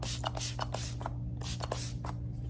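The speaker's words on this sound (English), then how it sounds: "you can use it after as a setting spray if you want" Makeup setting spray mists onto a face in several quick, close hissing bursts, some in fast pairs and separated by short pauses, over a low steady hum.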